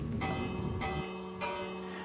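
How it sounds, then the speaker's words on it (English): Three bell chimes from a Minecraft rail alert as a minecart passes, ringing out clearly in a game with no talk, each strike starting sharply and then ringing on and fading. "This component will send out 3 chimes of the bell anytime a minecart passes over from the right to"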